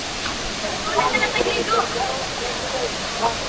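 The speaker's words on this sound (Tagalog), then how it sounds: "welcome to Kawasan Falls" Kawasan Falls in Cebu pours down in a constant, broad rushing roar, with faint voices drifting in and out above the steady water.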